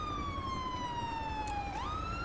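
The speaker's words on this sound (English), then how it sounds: "Ambulance is already here. Be advised, EMS is on scene." Police and ambulance sirens in the video game GTA 5, a steady wailing tone that sweeps slowly down then jumps back up, continuous and fairly close over a low background rumble.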